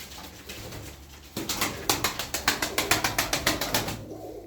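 A Turkish Adalı pigeon coos up close, a rapid run of about a dozen pulsing notes in steady rhythm after a brief quiet start.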